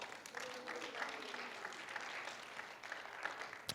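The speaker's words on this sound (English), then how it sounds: "give Manny a big round of applause" An audience applauds for Manny with steady, fairly faint clapping that lasts a few seconds, mixed with some cheering voices.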